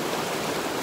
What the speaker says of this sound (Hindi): और पानी की स्पीड इंतहा ज़्यादा है कि इसके अंदर आप मतलब खड़े नहीं हो सकते